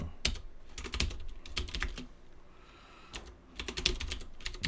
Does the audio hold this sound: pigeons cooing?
no